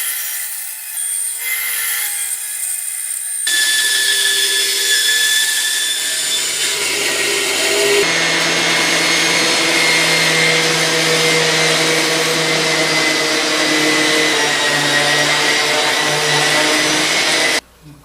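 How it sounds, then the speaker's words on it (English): A bandsaw cuts a half circle out of a wooden cornhole leg. The motor starts with a rising whine, then the blade bites into the wood with a loud, steady rasping hum that holds for several seconds and cuts off abruptly at the end. "I'll go on my bandsaw, cut this out, so that way it pivots inside."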